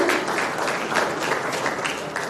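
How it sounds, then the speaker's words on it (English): A conference audience applauds after a presentation at a South Indian media summit, a dense, even wash of many hands clapping in a large hall, loud and sustained for the whole stretch with no talk over it. "You deserve a round of applause, ladies and gentlemen"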